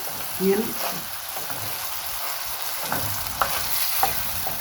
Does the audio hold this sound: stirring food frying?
yes